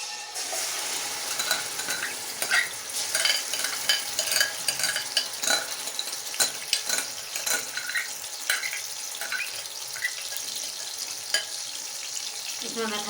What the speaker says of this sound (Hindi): अब मैं इसमें ये मैरिनेट चिकन डालूंगी।